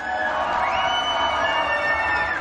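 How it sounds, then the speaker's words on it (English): An audience at gamescom cheers and whoops in a continuous loud wash of crowd noise, with high shouts sliding over the roar, heard from among the crowd. "A big applause for everyone and for Pomfy."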